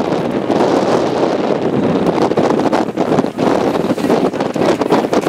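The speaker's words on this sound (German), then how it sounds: "Es ist sehr windig." Strong wind buffets the microphone on top of a tall tower, a loud, continuous roaring rush with irregular gusts swelling and dipping throughout, and no voices present.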